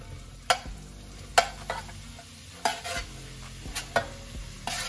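Leeks stirred into a cooking pot for a leek velouté, several distinct scraping strokes of a spoon against the pot over a soft sizzle, close and with no talk.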